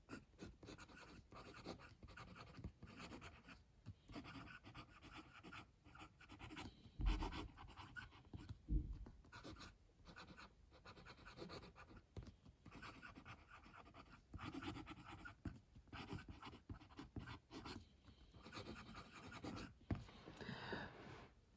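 Fountain pen nib writing a sample on paper, very faint scratchy strokes with soft rhythmic rubbing and brief pauses, close but quiet with no speech.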